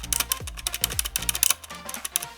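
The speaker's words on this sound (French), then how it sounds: "Ce qui m'a dérangé surtout c'est le bruit de la touche espace." Keys on a G-Lab Carbon² mechanical keyboard clack close by, with several heavier, lower thuds among the clicks where the space bar is pressed, and no voices.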